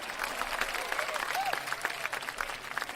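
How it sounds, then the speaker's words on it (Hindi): Audience clapping for a poet taking the stage at a poetry show, a steady spread of applause with light crowd murmur mixed in. "तालियां"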